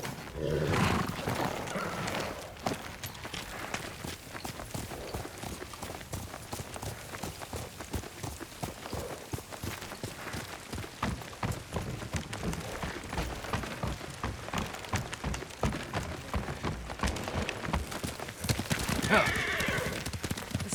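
Horse hooves clatter in a steady gallop with a loud neigh near the end, amid a busy rumbling soundscape in the video game Ghost of Tsushima.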